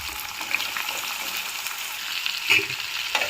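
Cut okra (lady's finger) frying in hot oil after tempering seeds have been fried, with a loud, dense, continuous sizzle heard up close and a few stirring scrapes and pops.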